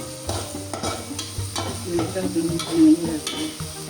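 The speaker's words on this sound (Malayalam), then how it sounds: "കറിവേപ്പില, ഉപ്പ്, വീണ്ടും ഇളക്കണം." Beef fry with curry leaves and salt being stirred in a pan, a steady sizzle broken by repeated scraping strokes of the spoon, close and fairly loud.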